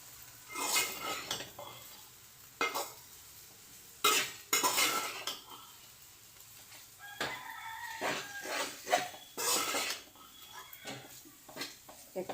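Veg noodles with homemade garam masala being stirred in a pan, with intermittent scraping and clinking of a utensil against metal in bursts over a low background hum, moderately near.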